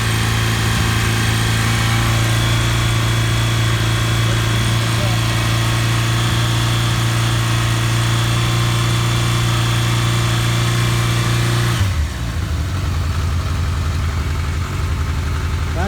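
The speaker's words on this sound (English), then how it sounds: "Glad to see the bike still runs." A motorcycle engine runs steadily after a jump start from a 1000 amp compact jump starter, loud and continuous with a strong low drone, then drops abruptly near the end to a rougher, lower idle.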